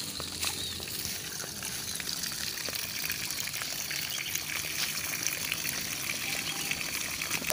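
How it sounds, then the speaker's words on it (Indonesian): Tap water gushes steadily through pipe irrigation in a honey guava orchard, a continuous close splashing wash with no voices. "Ini jalur satunya sudah mengocor airnya"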